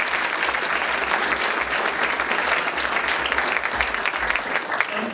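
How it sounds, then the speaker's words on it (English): Audience at a closing-remarks event applauds a new intern class, a dense, steady wash of clapping from a mid-sized crowd sustained throughout. "Quick round of applause for the"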